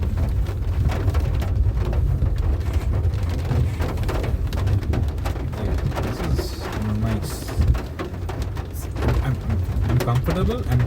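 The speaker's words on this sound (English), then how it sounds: "I'm driving through the rain." Heavy rain drums steadily on a 2014 Nissan Sunny petrol car as it drives through flooded Chennai streets, a dense constant hiss with low road rumble, and a voice talks over it.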